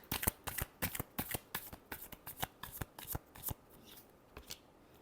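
A deck of tarot cards shuffled by hand in a series of quick riffling bursts with short pauses between them, close and fairly quiet, tapering off toward the end with no talking.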